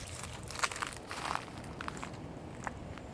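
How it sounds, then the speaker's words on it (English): Dry leaves crunch under slow walking footsteps outdoors, a few distinct crackling steps fairly close, with no talking. "And the leaves go crunch beneath my feet."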